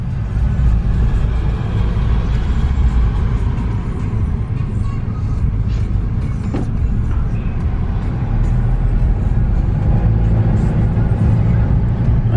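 Car cruising slowly at about 15 miles an hour on a warm Saturday afternoon, a steady low engine and road rumble from inside the cabin throughout, with people talking over it.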